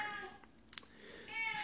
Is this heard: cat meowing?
yes